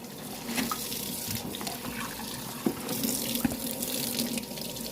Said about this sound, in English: We're just going to rinse it off, y'all. and especially the skin